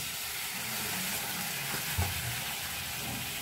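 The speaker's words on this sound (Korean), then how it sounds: "그래서 좀 이렇게 부글부글부글 끓여." Kimchi simmering in soy sauce and sesame oil in a pan, giving a steady, close sizzling and bubbling hiss that runs alone throughout, with one brief clatter near the middle.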